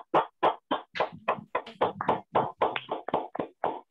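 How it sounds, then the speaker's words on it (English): Members of an online meeting unmute and clap for a speaker, giving a quick run of about a dozen sharp, separate hand claps through laptop microphones, close and fairly even in rhythm with no talking. "please unmute yourself and give a big round of applause to her"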